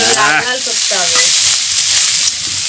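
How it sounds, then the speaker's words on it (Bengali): Bitter gourd slices fry in a pan over a blazing wood fire, giving a loud, steady sizzle and hiss that runs unbroken throughout, with a few brief tonal bursts early on. "দেখো দেখো, মজমজ করে আগুন উচ্ছে ভাজা হচ্ছে, মজমজ করে।"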